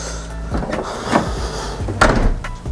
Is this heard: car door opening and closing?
yes